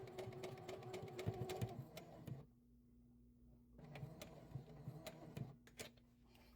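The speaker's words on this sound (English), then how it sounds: "and then you just sew all the way down" A sewing machine stitches a puff quilt pocket in quick, rhythmic ticking bursts, stopping for a quiet pause of about a second and a half before running again, fairly soft and close.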